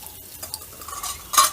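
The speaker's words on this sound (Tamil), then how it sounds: "அந்த கறி துண்டு இருக்கிற கிண்ணத்தை இது உள்ளே வச்சுட்டு மேலே கொஞ்சமாக பட்டரோ இல்லை நெய்யோ ஆயிலோ ஏதாச்சும் ஆட் பண்ணிடலாம்" Ghee hits hot charcoal for smoky stovetop tandoori chicken: light scraping and clinks, then a short, sharp sizzling hiss bursts up near the end.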